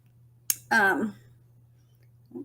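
A single sharp click from a computer mouse selecting a column heading in Google Drive, sounding near and isolated, followed by a brief burst of talk.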